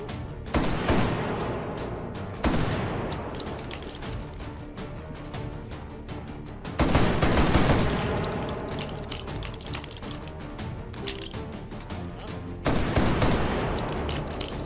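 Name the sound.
L85 bullpup burst gunfire in video game H3VR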